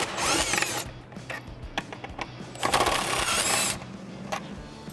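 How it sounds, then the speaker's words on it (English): An impact gun fitted with a 10 mm socket removes two bolts from the intake tube of a Jeep Wrangler JL 3.6L. It makes loud, close bursts of rapid hammering whir with short pauses between runs. No one speaks. "I have a 10 millimeter socket on my impact gun. I'm gonna remove these two bolts right here on our intake tube."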